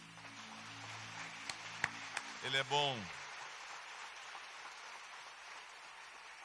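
A church congregation breaks into a dense, steady patter of applause during a family meeting service, with a sung or spoken voice rising briefly over it and a few sharp claps near the start.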